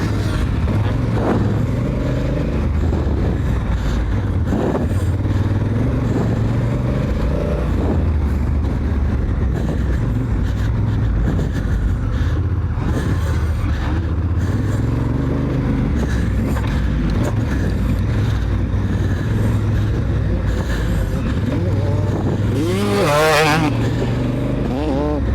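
Honda Africa Twin motorcycle ridden on a motocross track, its engine droning loud and continuous throughout with steady low rumble, shifting revs and wind buffeting, rising briefly near the end.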